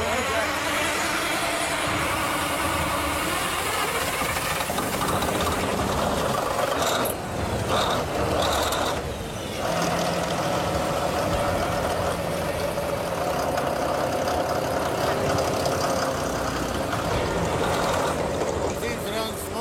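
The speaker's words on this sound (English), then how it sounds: "Give the pump a jump start with the pipe layer." A pump engine jump-started with a pipe layer runs and idles steadily, a loud continuous mechanical drone with a brief dip midway while people talk over it.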